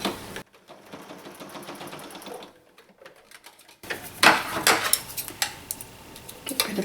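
A sewing machine stitches a denim tab for a blue jeans purse, with short bursts of rapid mechanical whirring and clattering, close and fairly loud, broken by quiet pauses and handling clicks.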